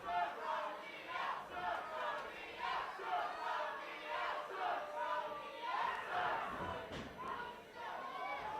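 A crowd at a live pro wrestling event in Colorado Springs shouts and cheers in rising and falling waves, a moderately distant roar with a sharp thud near the end and a commentator talking over it.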